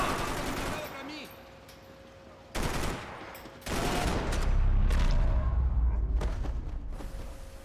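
Gunfire rattles through a firefight in the video game Max Payne 3, bursts and loud rolling shots with heavy low rumble building toward the end, with voices shouting over the shooting.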